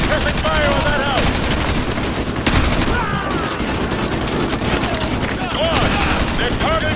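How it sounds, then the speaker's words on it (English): Suppressing gunfire in the Modern Warfare 2 Remastered video game, with dense overlapping automatic rifle and machine gun bursts rattling continuously, loud and close, with shouted voices in the mix. "Squad, put suppressing fire on that house!"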